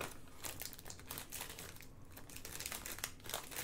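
Small plastic Ziploc bags of diamond painting drills are handled, giving a close, faint, continuous crinkling with scattered sharper rustles and no talking.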